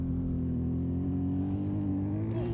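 Porsche rally car from the BMA team driving a stage at EASR 2013, its engine a loud steady close drone that climbs slightly in pitch as it revs and passes, with no talking.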